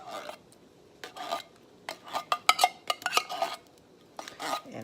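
Scraping the inside of a can of condensed cheddar cheese soup with a utensil, a series of close, irregular metallic scrapes and clinks in quick bursts with short pauses between.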